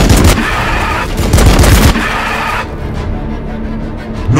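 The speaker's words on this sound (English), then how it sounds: "Opening fire!" Loud, dense gunfire erupts in Warhammer 40,000: Battlesector, with rapid overlapping bursts and booms for about two seconds before easing into a quieter rumbling tail.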